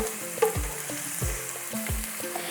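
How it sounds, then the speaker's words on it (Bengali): Chopped onion fries in hot oil over a medium flame, a steady close sizzle broken by repeated scrapes and stirring strokes in a slow rhythm, with no voices. "পেঁয়াজটাকে আমি একটু হালকা লালচে রং করে ভেজে নেব"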